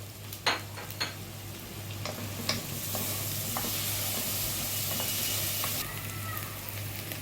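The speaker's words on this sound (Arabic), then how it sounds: "نزلنا بالتومة وقلبنا شوية" Grated garlic sizzles in a hot pan with meat and onion for an okra and meat stew, giving a steady close frying hiss with a few sharp spoon clinks against the pan as it is stirred.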